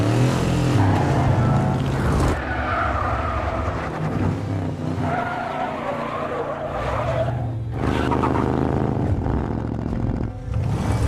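A car engine during driving practice, revving and surging with tire noise and possible skids, loud and close throughout over a busy background mix.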